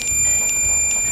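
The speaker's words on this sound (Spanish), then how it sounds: "escucháis un pitido. Eso nos quiere decir que tiene continuidad." A multimeter set to continuity gives a steady high electronic beep while its probes touch the stator winding of a Harley-Davidson Sportster charging system, a clear continuous tone heard close with faint clicks.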